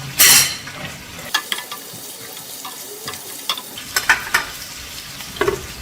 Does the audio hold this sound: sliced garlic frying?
yes